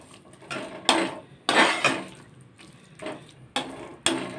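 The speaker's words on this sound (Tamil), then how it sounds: "இப்போ 300 மில்லி தண்ணி அதில் ஊற்றிடலாம்." Water poured into a pot of soaking rice for a simple kuska-style biryani, with several separate splashing pours and clinks of a metal vessel, close and fairly loud, no talking.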